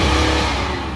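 A BMW engine revs hard in sports mode and first gear, a loud close roar that holds steady and eases off slightly toward the end.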